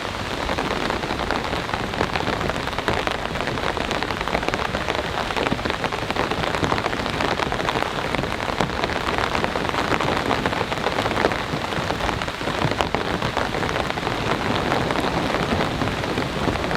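Heavy storm rain pounds a large Japanese camping tent in a steady, dense roar that never lets up, close and loud, with gusting wind behind it and no voices.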